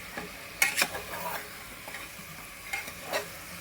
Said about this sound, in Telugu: ఇప్పుడు దీనిలో ఉప్పు వేసాను కాబట్టి మేము ఇది బాగా కలుపుకోవాలండి